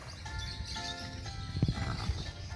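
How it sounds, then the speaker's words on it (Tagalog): A large horse on a farm snorts and shifts close by, with a brief burst of breathy, low sounds amid quiet farmyard ambience. "So ang dagko nga kabayo na dito."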